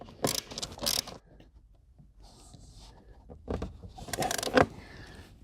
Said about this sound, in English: I'm going to switch to a hand tool to torque it down now that it's started